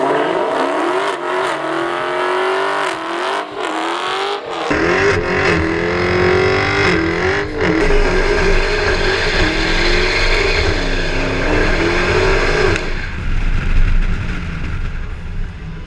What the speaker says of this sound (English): there's only really one way to determine which one of these you need. Smoky burnouts.